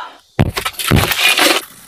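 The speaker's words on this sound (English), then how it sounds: "Safety hammer broken car window test." A sharp crack from a safety hammer striking a car window, followed by a brief crunching, shattering burst of breaking glass, loud and close, lasting about a second.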